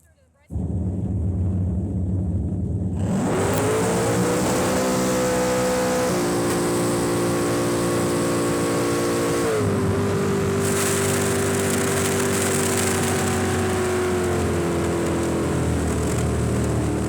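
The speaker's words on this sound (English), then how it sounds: "Engine's still popping out of the exhaust." A powerful drag boat engine starts up and revs loudly, its pitch rising and dropping in stages, with rough popping from the exhaust throughout.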